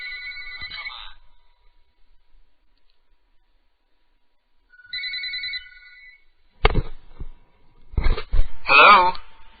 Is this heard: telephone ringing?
yes